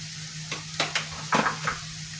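Onions sautéing in a pan for a roast, a few quick spatula strokes and scrapes over a low sizzle with a steady hum underneath.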